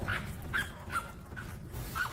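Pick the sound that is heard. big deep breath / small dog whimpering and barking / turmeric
small dog whimpering and barking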